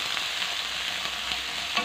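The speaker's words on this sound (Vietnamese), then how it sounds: "Mình sẽ phi thơm cái sả ớt này lên." Sliced lemongrass and chili fry in hot oil in a pan, producing a steady, close, continuous sizzle with no talking.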